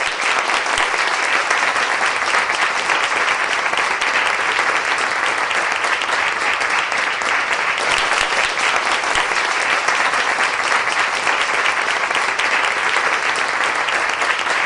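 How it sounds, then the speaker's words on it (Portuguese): A church congregation claps loudly and continuously for about fifteen seconds, a dense, even wash of applause from many people that neither builds nor fades. "lhes peço realmente um aplauso para ela"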